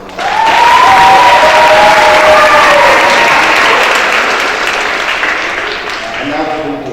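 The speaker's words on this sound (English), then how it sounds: "So, round of applause." Audience at a school athletic ceremony bursts into loud, sustained applause with some cheering, filling a large room and slowly tapering, while a voice speaks over it near the start and again at the end.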